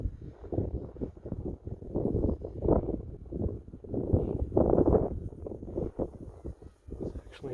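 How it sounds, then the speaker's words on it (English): Steady wind buffets the microphone outdoors, a continuous low rumbling roar that swells and gusts without pause. "It's actually just the wind."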